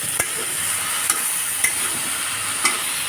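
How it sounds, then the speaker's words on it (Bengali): Okra for a Bangladeshi-style bhaji fries in a pan with a loud, steady sizzle, broken by a few scraping stirs of a spatula, close and without talk. "আমরা কিছুক্ষণ নেড়ে চেড়ে নিচ্ছি।"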